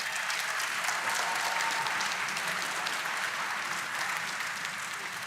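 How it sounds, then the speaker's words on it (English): A conference audience at a Splunk live event gives the Carnival team sustained applause, an even wash of many hands clapping at moderate distance with no talking over it. "If everyone can please join me in giving the Carnival team a big round of applause."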